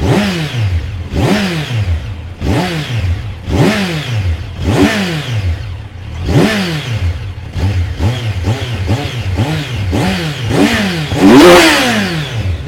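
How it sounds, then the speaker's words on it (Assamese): A 2025 Kawasaki Z900 motorcycle engine is revved repeatedly, each throttle blip rising and falling in pitch, with a loud, rumbling exhaust note throughout. "এতিয়া আপোনালোকক এক্সজষ্ট নট শুনাই আছোঁ"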